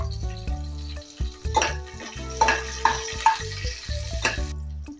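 Curry leaves, garlic and green chili sauté in hot oil in a pan, giving a crackling sizzle that is broken by repeated metallic clinks and scrapes of a spoon stirring in short, uneven bursts.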